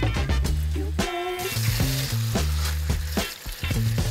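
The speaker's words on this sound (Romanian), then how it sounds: "Cumva este prăjit, dar la foc foarte dulce." Broccoli frying gently in a pan with a little added water, alongside salmon, giving a steady loud sizzle throughout with musical tones layered over it and no speech.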